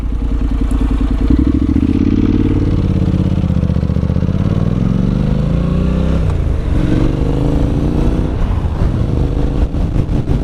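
A Honda NC750X motorcycle rides along a local road, its engine a loud steady drone up close that rises and shifts in pitch as it accelerates, with wind noise and no talking.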